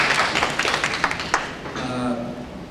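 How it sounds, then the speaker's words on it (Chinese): Audience clapping welcomes General Ge Dunhua to speak at a painting exhibition opening at a national library, a dense patter of claps for about a second and a half that fades as a voice takes over. "我们掌声欢迎葛将军"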